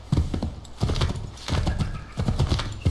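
Galloping horse hooves in the video game Assassin's Creed III thud in a quick, repeating clip-clop rhythm, close and prominent, grouped in steady bursts of strides.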